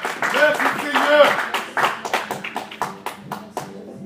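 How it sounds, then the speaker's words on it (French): A church congregation claps in praise, a series of sharp, uneven hand claps close by, with voices singing or calling out over the first half before the clapping thins to separate loud strikes. "Applaudissez le Seigneur."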